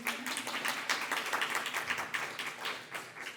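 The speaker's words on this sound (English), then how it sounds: "Please applaud that." Scattered audience applause for the Poet Laureate of West Hollywood at a poetry performance, a steady patter of hand claps at moderate, somewhat distant level for a few seconds.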